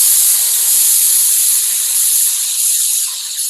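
A steady, loud hiss of air blasting from a paint spray gun set to full-width spray, continuous and close, easing slightly at the end.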